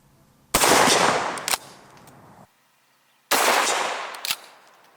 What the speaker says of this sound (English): Let's try some double-aught buckshot and see if it's any louder.